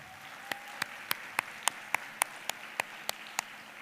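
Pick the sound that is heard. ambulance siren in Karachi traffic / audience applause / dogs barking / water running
audience applause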